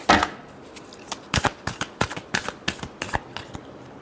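A deck of tarot cards is shuffled by hand in a quick burst of crisp riffling snaps and flutters, close and clear with no voices, about a dozen sharp clicks in rapid irregular rhythm.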